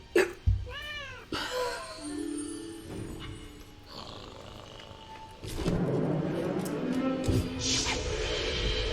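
A cat meows several times, with short rising and falling calls near the start, over a busy background of other sounds and noise that grows louder in the second half.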